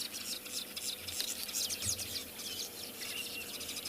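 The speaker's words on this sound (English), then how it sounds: "that's the weavers you can hear" Weaver birds call around a dam at sunrise on safari, a busy chorus of rapid, overlapping chirps at moderate distance, continuous throughout with faint background rustle.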